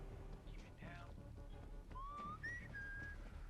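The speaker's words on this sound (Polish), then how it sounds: "Lol, co to za gwizdy?" Whistling in the zombie shooter World War Z, several rising and sliding whistled tones at mid distance over a busy game backdrop of low rumble and scattered noise.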